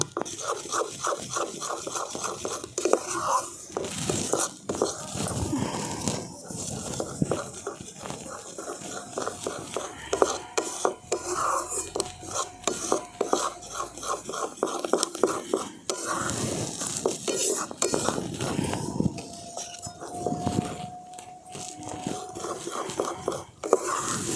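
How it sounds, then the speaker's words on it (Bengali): Rice flour batter is stirred and scraped in a bowl for a village-style date-jaggery pitha, making uneven wet stirring and scratching sounds with no talk. "একবারে কিন্তু বেশি চালের গুঁড়ো দেওয়া যাবে না অল্প অল্প করে দেবো আর ব্যাটারটা তৈরি করে নেবো"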